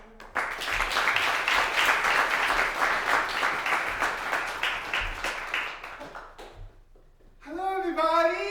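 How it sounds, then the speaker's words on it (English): An audience claps and applauds steadily for several seconds, then the applause dies away and a voice speaks. "let's give him a round of applause"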